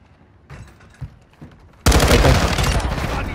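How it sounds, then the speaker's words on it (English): Gunfire in the shooter game Warzone 2, a few scattered distant shots followed by a sudden loud, sustained volley of rapid close fire, with faint voices underneath. "He's looking at us, shooting."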